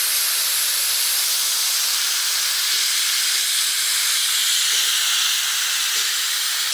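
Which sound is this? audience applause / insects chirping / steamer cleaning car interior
steamer cleaning car interior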